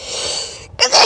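A single loud, close sneeze set off by a cotton swab tickling the nose: a short hissy inhale, a brief pause, then the sharp burst of the sneeze.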